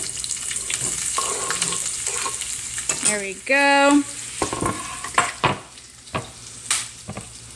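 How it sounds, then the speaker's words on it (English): Onions fry in a couple of spoons of oil in a pan for chili paneer, a steady sizzling crackle punctuated by stirring scrapes, with a short spoken phrase. "you should hear that crackling noise like you do with the other dishes"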